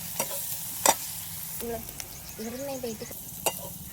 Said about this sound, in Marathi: आता टाकून घेऊ आपण ठेचलेला लसण. लसणातला कच्चेपणा जाईपर्यंत मस्त परतून घेऊ.